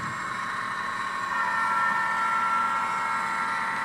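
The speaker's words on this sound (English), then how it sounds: "Now our train is coming around towards the Delta Yard" A steady, continuous rumble of a BN intermodal train rolling along the tracks near Delta Yard in Everett, Washington, with a constant mid-range hum and no talking.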